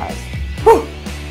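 A dog gives a single short yip or bark at close range. A low, steady background hum runs under it, and there is no clear speech.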